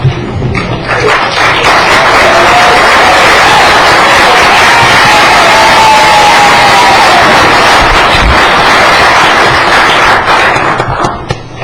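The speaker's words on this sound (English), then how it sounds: "Rowdy crowd." A rowdy crowd cheers at an Indian River County commission meeting, a loud, continuous wash of applause, whistles and shouting that stays at full volume for several seconds before tapering off at the end.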